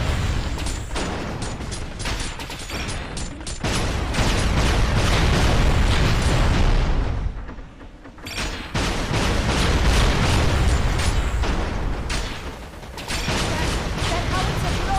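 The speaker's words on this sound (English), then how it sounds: "That howitzer blows." Howitzer blasts in the Binary Domain video game, a run of loud, dense booms and bursts with mechanical clatter that fills the clip, dipping briefly near the middle before pounding on again.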